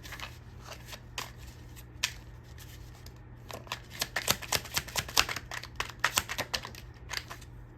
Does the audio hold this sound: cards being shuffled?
yes